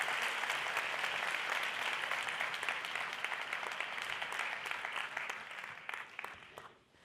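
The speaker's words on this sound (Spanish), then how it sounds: "Un fuerte aplauso." Sustained applause from a festival audience greeting a radio journalist on stage, steady dense clapping that holds for several seconds and then fades away toward the end.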